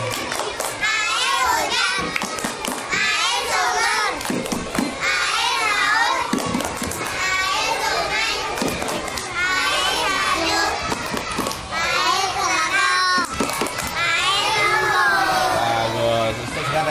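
First-grade pupils at a state Islamic primary school in Banda Aceh, Indonesia, chant together in a classroom clapping game, their sharp hand claps punctuating the loud, lively group voices. An adult teacher's voice joins in at times.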